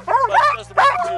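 Sled dogs at a dog sledding ranch in Colorado let out two close bursts of high, whining yips and barks, each rising and falling in pitch, with a short pause between them.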